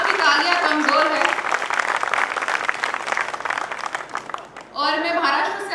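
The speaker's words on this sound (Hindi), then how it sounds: "आपकी तालियां कमजोर है।" Applause from the audience at a Hindi kavi sammelan, a steady wash of clapping that fills the hall for several seconds, briefly dips, then swells again near the end.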